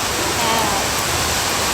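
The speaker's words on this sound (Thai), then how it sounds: "ฝนตกไหมว่าว่า ตกค่ะ ตกหนักมาก" Heavy rain pours down in a steady, dense hiss that holds constant and loud throughout, with no pauses or clear single drops.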